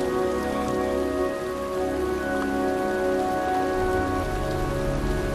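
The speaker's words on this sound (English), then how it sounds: "It's cold. It's raining." Steady rain in the video game Heavy Rain falls outdoors in a graveyard, a dense, even patter with a faint tonal hum beneath, continuous and alone without speech.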